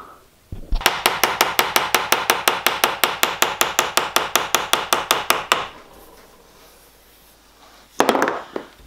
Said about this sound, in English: So one more anneal and another bit more hammering